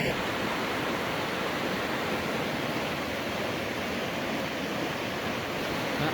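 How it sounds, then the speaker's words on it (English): Steady rushing creek water flows loud and continuous at a gold prospecting spot, a broad unbroken wash with no voices over it. "I always like showing you guys the creek to show you the different flow levels throughout the year."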